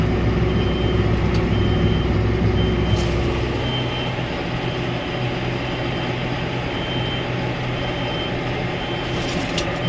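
A big Farmall diesel tractor engine runs at a steady, loud, close drone that dips slightly in tone partway through and continues without any voices.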